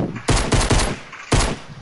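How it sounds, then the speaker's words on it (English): Video game gunfire comes in several loud, close bursts of rapid shots, separated by short pauses. "I'm shooting over here."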